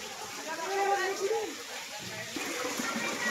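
Steady rushing of floodwater flowing through a village after heavy rain, loud and continuous, with a voice talking over it.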